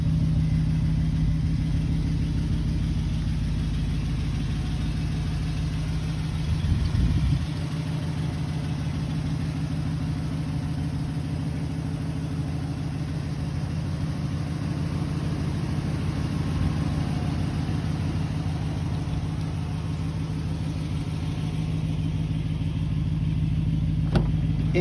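A 2007 Toyota Tundra two-wheel-drive pickup with dual exhaust idles steadily nearby, a deep, even engine rumble with a slight rev bump partway through and no one speaking.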